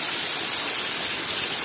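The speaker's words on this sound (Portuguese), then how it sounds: "E Deus abençoou que agora veio chuva." Steady, loud rain pours and splashes without pause in the sertão of Pernambuco, a dense hiss with water running off a spout close by.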